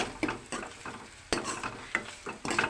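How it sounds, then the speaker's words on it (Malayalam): A spoon stirs salt and turmeric in a pan for moru curry (yogurt curry), making a series of close, soft scraping and light clinking strokes with a faint sizzle underneath. "ഇതിലേക്ക് ഒന്ന് ഇളക്കി കൊടുക്കുക."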